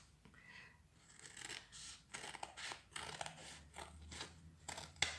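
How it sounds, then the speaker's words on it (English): Scissors snip through card between stitched tram lines on a patchwork Christmas card, giving a run of quick, close crisp cuts and rustles at a low level with no talking. "you're now going to take your scissors and cut between these tram lines"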